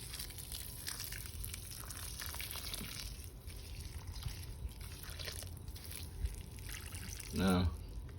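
Water is poured over a newly planted seedling, a soft trickling and splashing under faint outdoor background noise, with a brief louder gush near the end.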